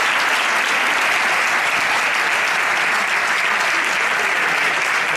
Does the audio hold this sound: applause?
yes